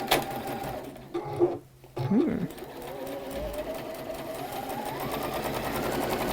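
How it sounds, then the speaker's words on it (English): A sewing machine stitches fabric pieces together along a quarter-inch seam, running in short bursts with pauses at first, then settling into a steady continuous whir, close and moderately loud. "And these, when I cut these, I cut them right sides together, okay? And we are going to stitch down 1/4 inch."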